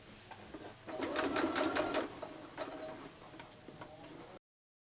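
Sewing machine fitted with a quarter-inch foot piecing a quilt block, running in a fast, steady mechanical patter that swells briefly then carries on more lightly before stopping, close and fairly quiet with no talk.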